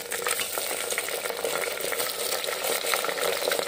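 Chicken pieces frying with onions in a hot pan for arvi chicken salan, a steady close sizzle and stirring scrape running without a break at an even level.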